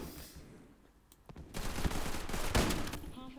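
Rapid bursts of automatic gunfire in the Roblox shooter Bomb Line, sparse shots at first, then dense close fusillades filling the second half.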